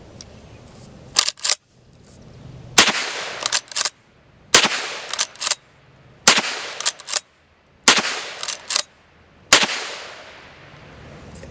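A GForce Saddlehorn lever-action rifle fires .357 Magnum rounds outdoors, with about seven sharp, loud close shots spaced a second or two apart, each followed by the quick metallic clack of the lever cycling.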